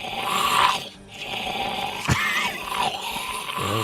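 A voice imitates a Walking Dead zombie with a strained, breathy rasp and groan, close up, pausing once briefly and then carrying on with a sharp click and a hoarse, wavering snarl.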